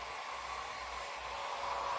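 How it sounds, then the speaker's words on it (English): A hair dryer on its cool setting blows a steady, even whoosh of air throughout, constant and close with no change in pitch. "I have a Cool Shot button on my hair dryer"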